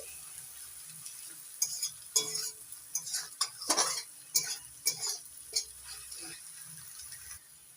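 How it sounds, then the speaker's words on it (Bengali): Onions with salt frying in a pan are stirred, a soft continuous sizzle broken by a series of sharp scraping strokes of the spoon against the pan, close and fairly quiet. "এবার নাড়াচাড়া করে একটু মিশিয়ে নিচ্ছি।"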